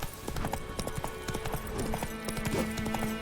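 Horse hooves clip-clopping at a steady trot in The Witcher 3, a rapid, even beat of sharp knocks close up, running straight through with no voices.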